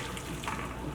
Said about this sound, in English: So I'm gonna drain it so they don't keep cooking